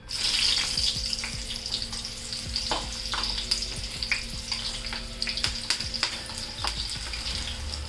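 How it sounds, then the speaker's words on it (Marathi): Slit green chillies fry in hot oil with a steady, close, bubbling sizzle and occasional sharp pops and crackles, running continuously with no talk. "वडापावबरोबर खाण्यासाठी ही हिरवी मिरची आहे ना ती पण मी तळून घेणार आहे"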